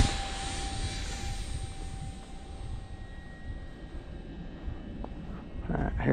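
A small, fast Pocket Rocket model aircraft flying on a 3S battery gives a steady whine that fades as it moves away, with faint wind or handling noise and a rise again at the end.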